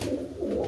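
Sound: pigeons cooing, tumbler pigeons

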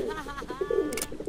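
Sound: birds cooing in video game The Sims FreePlay

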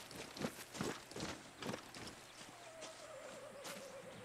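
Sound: horse neighing and walking in video game Far Cry 6

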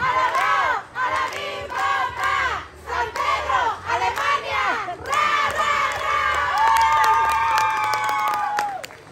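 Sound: applause and cheering for a kindergarten group

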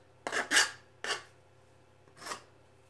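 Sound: shaving an angled piece for a shop vac cyclone

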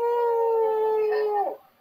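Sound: Cash App donation alert sound

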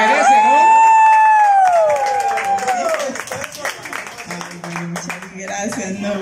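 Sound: applause and cheering for birthday woman

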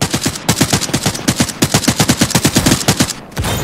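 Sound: machine gun fire in the video game Arena Breakout: Infinite

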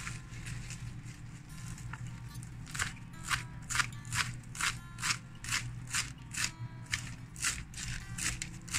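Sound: cutting mustard greens

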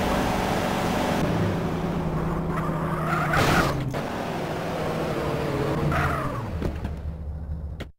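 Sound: car engine running in Grand Theft Auto video game

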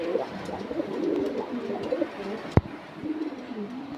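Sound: pigeons cooing

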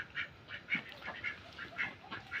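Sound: egg-laying ducks quacking

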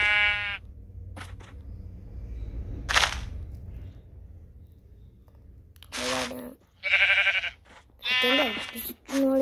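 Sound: sheep bleating

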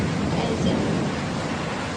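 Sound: thunder during a rainstorm

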